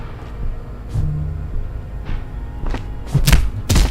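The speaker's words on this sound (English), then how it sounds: "The man lands with a dull thump, like a broken down puppet of muscles and sinew." A dull, heavy thump as a man's body hits the ground in the Disco Elysium video game, with a couple of scattered impacts and a low rumble around it, then a louder thud near the end.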